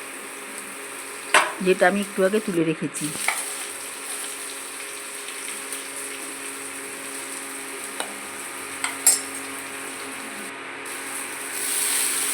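Hot fried oil poured into a mashed drumstick flower mash with black cumin, chilli and chilli powder gives a short burst of close sizzling and crackling, then a low steady hiss with a few faint clinks.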